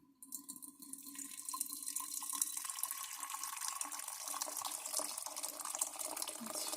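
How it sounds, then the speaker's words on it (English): Hot water, not boiling, pours steadily into a mason jar from close by, a continuous splashing fill that rises gently in tone as the jar fills, with no speech. "So what I want to do inside my mason jar is put some of that hot water,"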